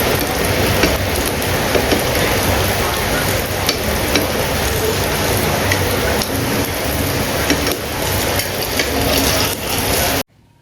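Kuzhiappam batter fries in a pan of hot oil, a loud, dense, crackling sizzle like heavy rain, with small clicks as pieces are flipped, running steadily before cutting off abruptly.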